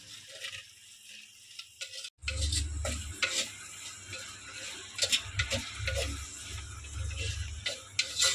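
Chopped vegetables with salt are sautéed and stirred in a pan for a Kerala-style kanji. A quiet pause gives way to steady sizzling with repeated scraping and clicking stirring strokes close by, with no talking.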